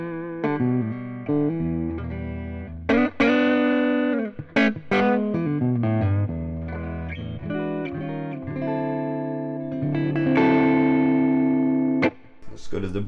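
A G&L Fallout electric guitar played through its P90 pickup with distortion rings out in sustained chords and single notes, with gaps between phrases, loud and up close.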